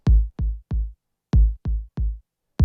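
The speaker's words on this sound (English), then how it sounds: "let's add a little primal tap from Sound Toys. Good delay." Drum loop in Logic Pro run through a Sound Toys Primal Tap delay, each punchy low hit followed by repeated echoes in a quick triplet-like pattern, close and dry with silence between groups.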